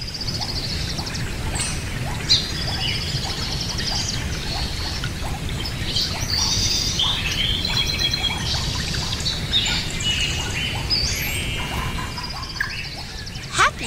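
Pet parrot chirping and calling indoors, a steady stream of short bright chirps and squawks over a constant noisy background, fairly close and continuous throughout.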